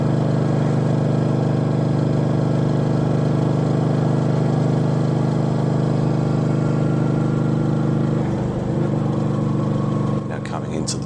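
Yamaha V-Star motorcycle leaning through a long right-hand sweeping bend, its steady engine drone loud and continuous, easing slightly near the end while a rider's voice talks over it.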